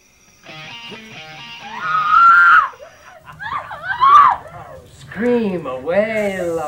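A woman screams several times, long shrill wailing cries broken by short pauses, loud and close with no other talk.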